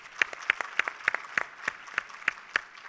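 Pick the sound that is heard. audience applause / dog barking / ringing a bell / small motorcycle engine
audience applause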